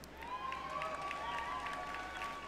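Sparse applause and a few cheers from the audience at EA's E3 2018 press conference, a thin scattering of claps and woos over steady hall ambience with a tonal whine running through.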